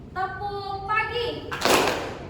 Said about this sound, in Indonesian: tepuk pagi itu tepuknya sekali